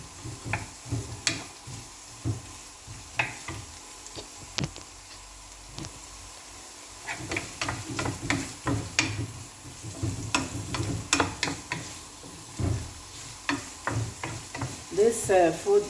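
Zucchini and onions frying in a pan, a steady sizzle broken by repeated scraping and clacking stirs of a spoon against the pan, close and fairly loud throughout.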